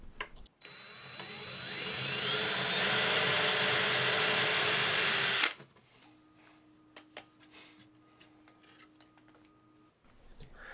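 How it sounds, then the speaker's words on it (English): A power drill whirs loudly for about five seconds as it bores through wood, then stops, leaving faint clicks and a low hum. "I used a bit just larger than the screws to drill through"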